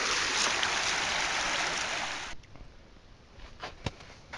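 Flowing creek water rushes steadily along an Ozark Trail crossing for about two seconds, then cuts out abruptly, leaving quiet outdoor ambience with a few faint knocks.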